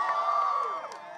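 A crowd at a high school graduation cheers for a school, a brief burst of shouts and whoops that fades slightly toward the end.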